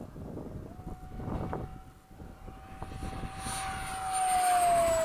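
Freewing 70mm F-35 RC model jet with its nose gear hanging down, flying at a club field: a steady ducted-fan whine that swells louder toward the end as it passes near, with low wind rumble underneath.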